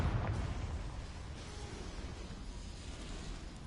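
Confringo blasting spell in a fantasy video game: a heavy explosive burst at the start, then a rumbling roar that fades slowly and stays fairly loud.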